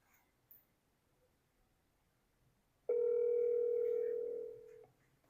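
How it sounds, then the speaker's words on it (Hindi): After a few seconds of near silence, a single steady phone ringback tone sounds for about two seconds, then fades out. "रिंग हो रही है।"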